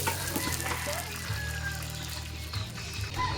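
Hot oil spatters and sizzles as a pork leg deep-fries for crispy pata, a steady crackling frying sound with faint background noise.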